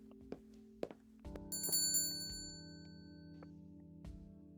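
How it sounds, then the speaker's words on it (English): A shop door bell rings as someone enters a grocery store in a video game, one bright chime with a shimmering ringing tail over a steady low hum, preceded by two short clicks. "the sound of a bell alerting the staff to my arrival"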